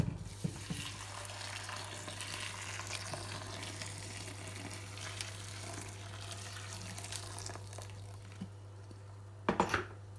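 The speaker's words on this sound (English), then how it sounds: "So now I'm gonna put the boiled water onto my rose petal." Boiled water is poured onto rose petals to make rose water. There is a faint, steady trickle of liquid beneath a constant low hum, and a couple of brief clatters come near the end.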